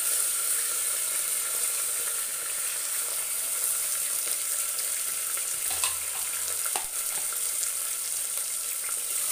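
Onions and green chillies frying with fenugreek seeds in oil, an even hiss of sizzling in a pan with faint stirring, no talk.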